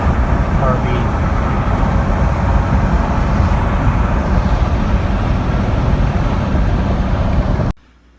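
A truck drives a tight, winding road at night, with a loud, steady drone of engine and road noise that cuts off abruptly near the end.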